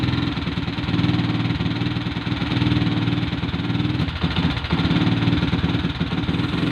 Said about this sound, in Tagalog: taasan nyo muna yung minor ng motor nyo